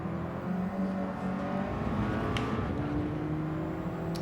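A race car in Gran Turismo 7 revs steadily under acceleration, its engine note droning and rising in pitch, heard close and continuous with no voices.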